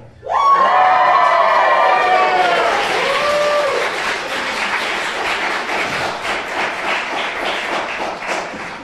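A theatre audience breaks into a loud, sustained cheer on cue, a dense roar of many voices with high shrieks and whoops at first, easing into a steady crowd din that holds to the end.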